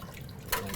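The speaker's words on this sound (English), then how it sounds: "I'm going to just go ahead and pour it right back into" Salt and Prague powder brine for curing lamb is poured back into a container, a brief liquid splash following a low hiss.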